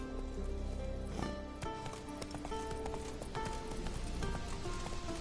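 Horse hooves gallop in The Witcher, a fast clip-clop rhythm under a dense, continuous wash of game ambience and music, moderately loud and close throughout.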